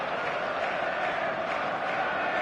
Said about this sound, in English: There's a real expectant buzz in the stadium